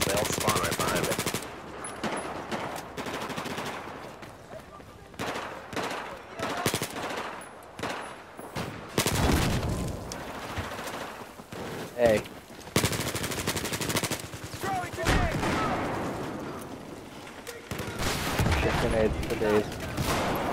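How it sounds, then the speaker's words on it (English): Battlefield 4 combat, with dense, continuous machine-gun bursts and heavy gunfire over a wall blowing apart. Loud, rapid volleys come in waves with brief lulls, and voices can be heard amid the shooting. "Fucking wall just exploded, so that's cool."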